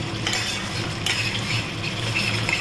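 Papaya kofta masala sizzles steadily as it is fried and stirred in a pan, with soft scraping of the spoon over a continuous close-up hiss and no one speaking.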